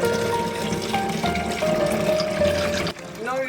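Pimento wine pours in a steady gurgling stream into a bottle, its pitch rising toward the end as the bottle fills three-quarters full, with a faint tonal hum in the background.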